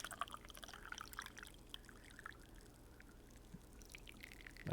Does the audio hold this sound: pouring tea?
yes